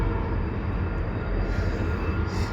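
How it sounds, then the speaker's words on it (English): A train passes near a chicken run, producing a steady, dense rumble that fills the whole stretch without letting up. "The train goes right there."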